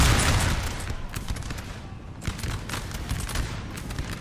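Lines of musket infantry fire volleys in a Napoleon Total War battle, producing a dense, continuous crackle of overlapping gunshots. It starts loud, eases slightly, then keeps rolling with occasional sharper bursts.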